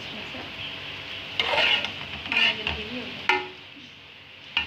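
Egg fried rice is stirred in a frying pan, with a spatula scraping and tapping in a few irregular strokes over a soft sizzle, close by and moderately loud.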